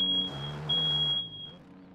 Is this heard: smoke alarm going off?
yes